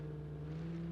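In the BeamNG.drive driving game, a car engine revs hard with the pedal to the floor while climbing uphill, a steady strained drone with strong harmonic tones and no voices.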